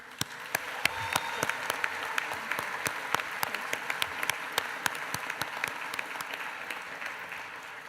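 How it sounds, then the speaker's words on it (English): Sustained audience applause fills a graduation ceremony hall, a dense steady patter of many hands with a few sharp nearby claps standing out, running on without voices over it. "Let's give a big round of applause to show our appreciation."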